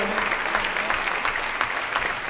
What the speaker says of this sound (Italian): noi lo accogliamo con un grande applauso